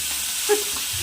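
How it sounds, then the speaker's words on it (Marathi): A brief, soft sizzle of cumin and curry leaves tempering in hot oil, with a faint stirring scrape in the middle. "कडक फोडणी"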